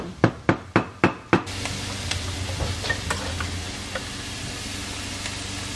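Onions fry in a pan for an upma breakfast, a steady sizzle following a quick run of five sharp, loud knocks at the start, with softer clinks of stirring scattered through and no voices.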